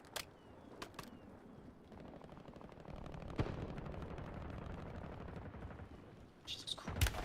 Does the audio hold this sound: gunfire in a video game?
yes